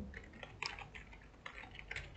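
Soft, steady computer keyboard typing with quick irregular key clicks close by, a few slightly louder taps standing out in a continuous low background.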